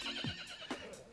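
A horse whinnies in short repeated calls, with hoof clops mixed in on a busy street.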